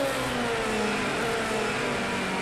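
A racing car engine in the video game Project CARS 2 drones steadily throughout, a sustained mid-pitched whine with a faint rising tone, continuous and fairly close.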